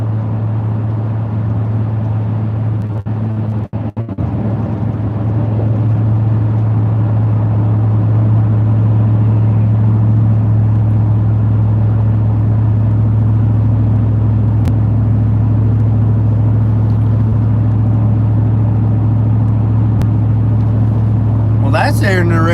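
A car cruises along an interstate at about 70 mph, a steady low road-and-engine rumble heard from inside the cabin that stays constant throughout, with a brief rustle early on and a short sharper sound at the very end.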